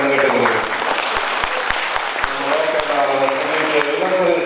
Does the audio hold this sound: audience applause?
yes